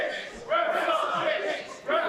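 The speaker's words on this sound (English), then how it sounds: "Crowd has some nice words to say about the ref." A women's wrestling crowd jeering and shouting at the referee during a match, a loud mass of voices swelling in two bursts with a brief dip between, filling the arena.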